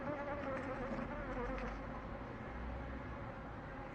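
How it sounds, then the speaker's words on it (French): A white hornet caught in a bottle trap at a bee yard buzzes steadily and faintly, a thin continuous drone under a quiet hiss. "Un frelon blanc vient de se faire capturer."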